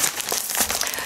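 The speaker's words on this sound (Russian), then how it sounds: "Тут мне пакетик дали." A plastic bag crinkles up close in a quick series of crisp rustles, with no voices.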